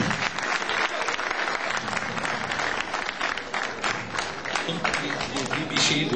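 Audience applause at a Turkish classical music choir honor concert, loud dense clapping from a full hall that keeps going steadily throughout, with some crowd murmur underneath.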